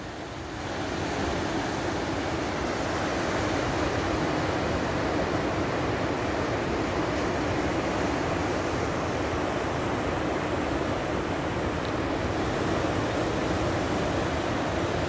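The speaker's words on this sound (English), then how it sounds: "Look at those waves." Storm surf breaking at Ayia Napa, Cyprus, a steady, dense roar of waves with wind, continuous and fairly even in loudness, with no talk.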